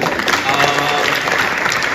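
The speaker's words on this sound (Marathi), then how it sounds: "ती आता शूट करते, तिला त्यासाठी पण जोरदार टाळ्या." A theatre audience applauds a play's producer with a dense burst of clapping that holds steady and close for the whole moment, with no talk over it.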